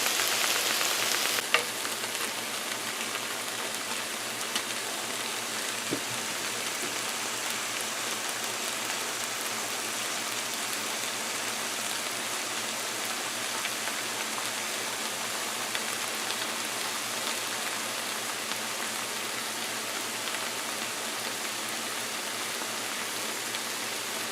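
Shrimp for pepper shrimp frying in a pan, giving a steady, even sizzle and crackle that runs unbroken throughout at moderate volume, with no voices.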